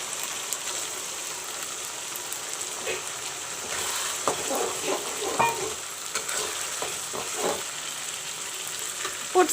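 Jeera, black mustard seeds and red chili paste frying in hot oil for a vindaloo; a steady crackling sizzle with scattered pops and the scrape of a stirring spoon, moderately close and without talk.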